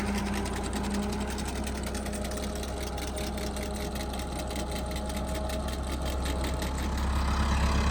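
A tractor runs with a maize planter attached, its engine a steady, loud mechanical drone with a fast rhythmic chatter, continuous and close throughout, with no talking.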